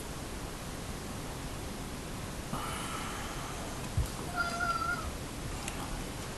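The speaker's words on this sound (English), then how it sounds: "I've got to go and deal with this greedy cat." A cat meows indoors, one short call partway through, faint over a steady hiss of background noise with a brief knock just before it.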